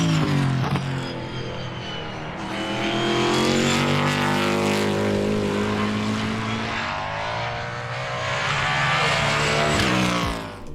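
American V8 crate engine in an S5000 open-wheel race car, a loud, sustained engine roar rising and falling in pitch as the car accelerates and passes, with no voices.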